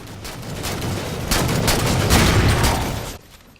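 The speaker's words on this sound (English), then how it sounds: "Listening to the crack of a DMR" Loud, dense DMR rifle fire from Halo 4, sharp cracks rattling off in quick succession and filling the whole stretch before cutting off abruptly.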